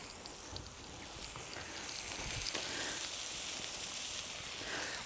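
Smashed burger patties fry in a pan set on glowing embers of a fire plate, a steady crackling sizzle that swells slightly midway and carries on at moderate loudness without speech.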